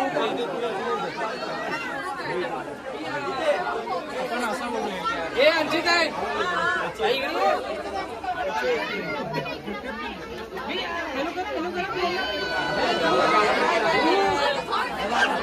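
Dense crowd chatter fills Mumbai's Rani Baug zoo, many overlapping voices forming a steady, close babble throughout.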